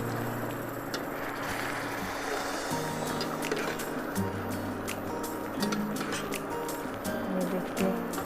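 Spinach for aloo palak stirred in a pot as it wilts in its own released water, a continuous wet sloshing and scraping with low rumbling undertones, moderately loud and close.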